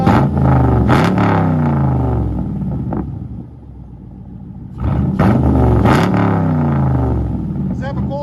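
A Chevy Camaro with a straight-pipe true dual exhaust revs loudly and close by in two strong bursts, each rising and falling, with a rough idle rumbling between them.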